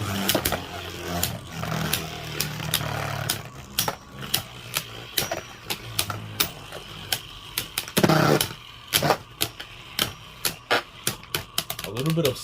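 Beyblade Burst tops from the Ultimate Fusion DX Set clashing in a stadium, Divine Belial against King Helios, giving a whirring spin broken by many sharp clicking impacts and short bursts of scraping.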